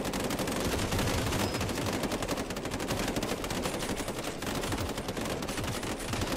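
Enemy gunfire in Cepheus Protocol, an unbroken stream of rapid automatic shots crackling loud and close for the whole stretch, with no voices over it.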